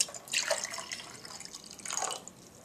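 Water is poured from one container into another during a child's Piaget-style liquid conservation task, giving two short, faint splashing trickles about a second and a half apart in a quiet room.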